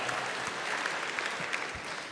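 Steady applause from a stand-up comedy audience, a dense even wash of many clapping hands filling the room at moderate volume without break.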